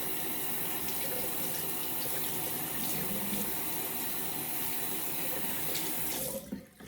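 Tap water running into a sink while exfoliator is washed off, a steady close hiss and splash that continues for several seconds and then cuts off abruptly near the end, with no talk.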